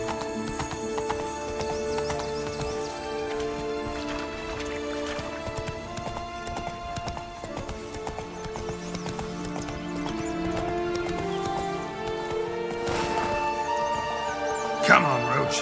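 A horse gallops with rhythmic clip-clop hoofbeats in The Witcher 3, accompanied by whinnies and game music, steady throughout with a louder burst near the end.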